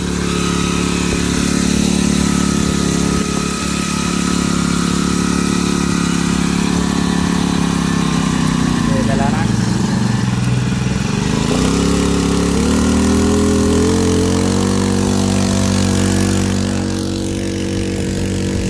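A small 50cc four-stroke GX50 water pump engine runs loudly and continuously nearby, a buzzing mechanical drone that dips and recovers briefly midway.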